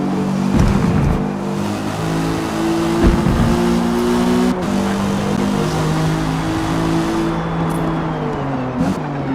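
A Subaru WRX drives past close by, its engine revving and shifting through gears with a rising and falling note and a brief tire squeal, no talking.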